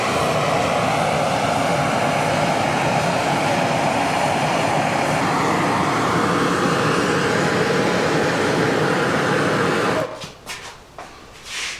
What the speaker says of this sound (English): We need to do a differential heat treatment. So we got our torches.